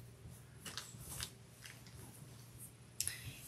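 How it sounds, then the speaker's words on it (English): Scissors snip through a large offcut of quilt fabric in a few faint, soft crunching cuts, with one sharper snip near the end, set against a quiet room hum. "I'll just cut it here"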